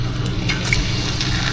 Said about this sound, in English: Why is my oil bubbling like that?